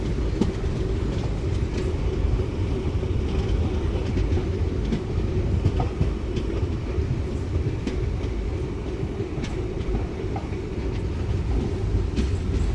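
A passenger train on the Dharmavaram to Narasapuram route, train 17248, pulling into platform 1 at Bhimavaram Junction, with a loud, steady rumble and faint rhythmic wheel clatter throughout, no voices.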